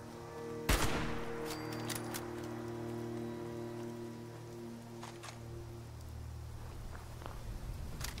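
A rifle fires one sharp, loud shot early on in the Fallout 76 video game, and its echo rings down into a long, steady hum of ambience. A few fainter clicks and ticks follow.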